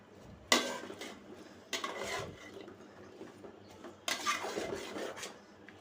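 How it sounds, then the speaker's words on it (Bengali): Washed potatoes and pointed gourd tipped into a pot of cooked-down masala, three separate clattering scrapes of a utensil against the pot, close and moderately loud, with quiet gaps between them. "মশলাটা কষানো হয়ে গেছে এখন আমি ধুয়ে রাখা আলু আর পটলটা দিয়ে দিলাম"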